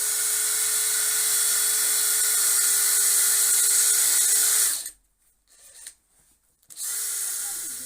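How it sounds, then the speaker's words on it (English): A power drill bores a hole in a wooden snowman craft, giving a steady, close, high whining buzz for about five seconds, then cutting out briefly before starting up again. "So now I'm just going to drill the hole."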